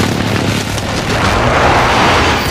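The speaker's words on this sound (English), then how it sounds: "Be advised, friendly precision airstrike inbound" A friendly precision airstrike explodes in a video game with a loud, sustained rumbling blast that fills the whole moment with dense, roaring noise.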